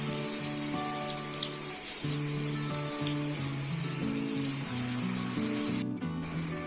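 Palak pakoda batter fries in hot oil with a loud, continuous, close sizzle and fine crackle, while soft sustained musical tones play underneath.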